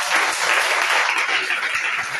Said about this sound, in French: Acclamez, acclamez,